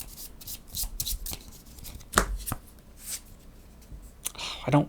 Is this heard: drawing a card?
yes